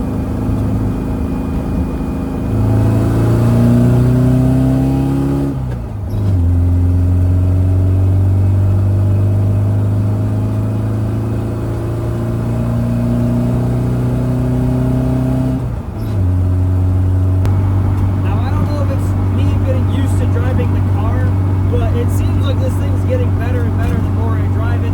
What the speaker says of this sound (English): That motor is running really well now.